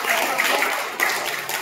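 An audience at a chess tournament prize ceremony in Satara applauds, giving a brief, even patter of clapping throughout.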